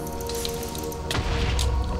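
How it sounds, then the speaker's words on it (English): Far-off creeper explosion in a cave in a Minecraft-style game, a single muffled boom about midway through, low and distant, following dripping water. "I heard the far-off explosion."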